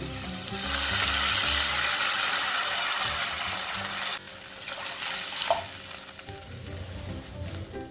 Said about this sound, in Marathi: यामध्ये पाणी टाकून घेऊया।